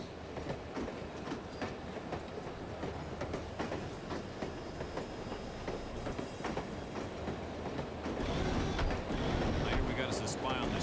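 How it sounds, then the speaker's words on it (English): Train ride in the video game No One Lives Forever, a steady rumbling rail rhythm with clickety-clack wheel noise and carriage hum, growing louder near the end, with voices talking over it. "I love riding the train."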